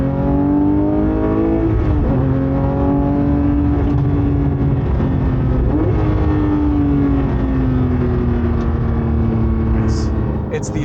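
A 2022 Porsche 911 GT3 Touring with a 6-speed manual and over 500 horsepower, its engine droning loudly and rising in pitch as it accelerates, with two brief dips at gear changes.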